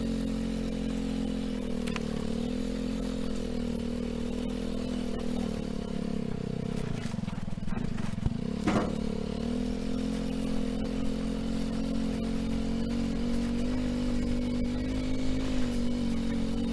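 A quad bike pulling a loaded trailer drives steadily across rough ground toward a dump spot, its engine droning loud and close the whole way, with a brief clatter and scrape partway through.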